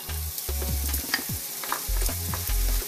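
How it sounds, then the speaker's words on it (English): Bacon and onions sizzle steadily in a pan, a close crackling hiss with soft stirring and clinking, while a low background hum runs underneath. "Always love the sound of frying onions."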